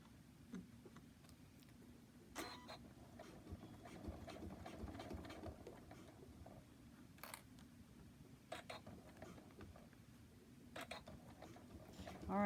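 A sewing machine runs a long continuous topstitching pass along a silicone trivet's trim, with a low steady motor hum, a fast needle patter and occasional sharp clicks, fairly faint.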